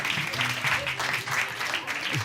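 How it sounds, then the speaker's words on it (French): Brief audience applause at a live storytelling and science show, clapping mixed with voices talking over it, moderately loud and uneven across two seconds. "On peut l'applaudir très fort."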